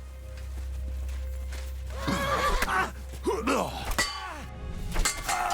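A horse in Kingdom Come: Deliverance 2 gives a loud, wavering whinny and snorts after a low steady hum, followed by thuds and a voice speaking over it.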